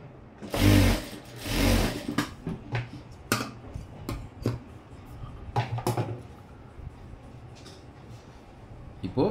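A sewing machine stitches the side seam of a blouse, with two loud, close motor runs near the start followed by scattered clicks and light knocks as the fabric is handled. No one speaks.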